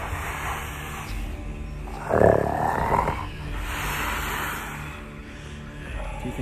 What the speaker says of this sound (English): he stretched himself out on the floor and he began to snore.